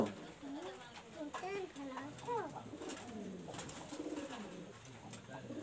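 Pigeons cooing close by in a home loft, soft repeated rolling coos running steadily throughout, with people talking over them.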